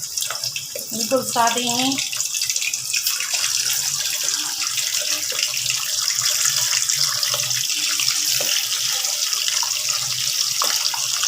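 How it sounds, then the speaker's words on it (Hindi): Plain uncoated fish fillets sizzle and hiss steadily in hot oil, a dense, continuous frying noise that carries on throughout, with a voice speaking briefly near the start. "अब हम इसके अंदर प्लेन बिल्कुल सादे ये फ़िश फिले डाल देंगे।"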